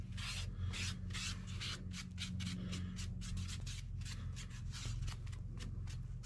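Napkin soaked in Kona gel stain rubbed over a restored metal hand plane, rhythmic scrubbing strokes repeating close by over a low steady background hum, no voices.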